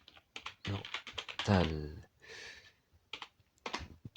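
One-handed typing on a computer keyboard, soft clicks mixed in with a soft-spoken voice talking close to the microphone.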